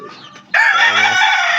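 A chicken lets out a loud, drawn-out squawking call close by, following a few softer clucks.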